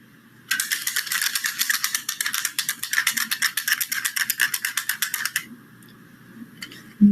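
A matchbox holding five or six matchsticks is shaken quickly for about five seconds, a dense, even rattle of rapid clicks close by, then stops, with a brief bump at the end.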